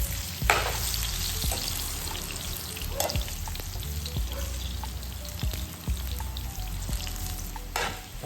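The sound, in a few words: banana slices frying in oil until golden brown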